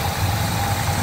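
A healthy engine in a 1964 Pontiac Grand Prix idles with a steady, loud, close rumble and a smooth low throb.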